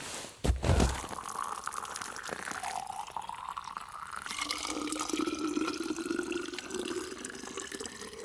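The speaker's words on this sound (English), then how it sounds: "So I'm gonna fill my bottles back up" Hot water is poured from a container into bottles outdoors at a snowy winter campsite, a thin liquid stream whose pitch rises as the bottles fill, after a brief knock at the start.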